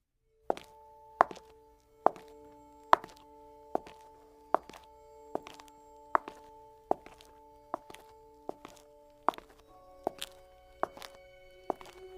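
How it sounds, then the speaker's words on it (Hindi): Slow, evenly spaced footsteps land one after another, each a sharp hollow thud with a ringing tail, about a dozen steps heard alone. "कदमों की आवाज सुनी। छुप छुप छुप"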